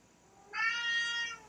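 A single cat meow, a clear tonal cry of about one second, close and fairly loud, with no voices.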